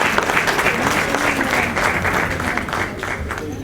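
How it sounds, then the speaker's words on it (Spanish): An audience at a political transparency forum bursts into sustained applause, dense clapping close and loud for the whole stretch before tapering slightly at the end. "Un aplauso, por favor."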